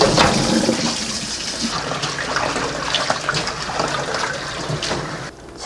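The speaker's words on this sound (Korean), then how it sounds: "자, 이제 끄고 헹궈 보도록 하겠습니다." Running water pours steadily in a kitchen sink over blanched toona (Chinese mahogany) sprouts as they are rinsed, a continuous splashing rush that stays loud throughout and thins out briefly near the end.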